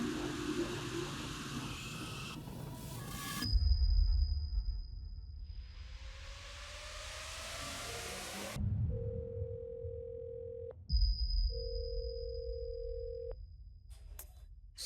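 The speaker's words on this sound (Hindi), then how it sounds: "राजेश फोन क्यों नहीं उठा रहे हैं?" Electronic phone tones beep and repeat with whooshes and static between them, a call going unanswered.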